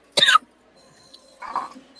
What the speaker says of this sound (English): I had a little cough.